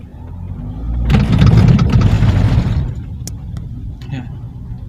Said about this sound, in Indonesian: Mari kita dengarkan sama-sama ketika roda mengenai simulasi jalan rusak.